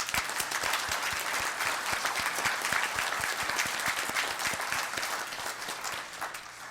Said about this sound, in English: May you please join us in giving Hélène and her team of volunteers a round of applause.